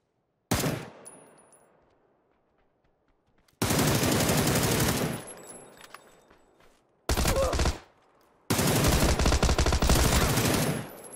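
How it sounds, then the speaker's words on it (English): Bursts of automatic gunfire in the PUBG video game on console, coming in four loud volleys of sustained rapid shots separated by short pauses, the first brief with a decaying tail and the later ones longer and dense. "I shot that guy so much, his helmet broke off"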